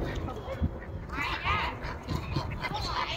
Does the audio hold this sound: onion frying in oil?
no